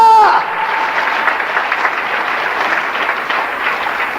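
Church congregation applauding together in a steady wash of clapping that starts right after a brief tone and holds at an even level throughout, loud and close with no voices standing out.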